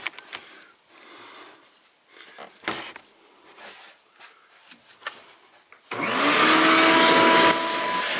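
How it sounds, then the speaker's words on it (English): A shop vac whirs inside a BMW 335i twin turbo, first with scattered clunks and scraping of debris being sucked up, then a steady loud roaring hum as the vacuum runs continuously near the microphone. "Shop vac, compressed air."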